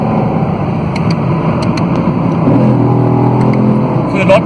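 A 2017 Chevrolet Camaro SS driven hard on an expressway, its engine a loud sustained drone with a rising pitch toward the end, heard from inside the cabin.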